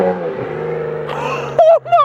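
A BMW 335i with catless downpipes launches, its engine droning steadily and then rising into a sharper, louder rev with a quick burst and drop near the end, heard from inside the car.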